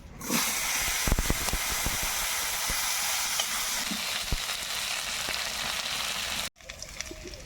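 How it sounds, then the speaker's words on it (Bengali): Potatoes sautéing in a pan with cumin, radhuni and dried chilli, giving a steady close sizzle and hiss with scattered stirring clicks, then cutting off abruptly near the end. "আলুটা কষে নিয়েছি এখন দেবো কেটে রাখা লাউ"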